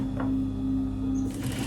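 Sewing machine running steadily as it stitches fabric, a continuous close mechanical whir with a brief shift in tone near the end, no voices.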